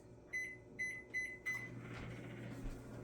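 Microwave oven heating butter gives four quick high beeps in a row, then the door opens and a steady low hum of the running oven carries on, close by with no talk.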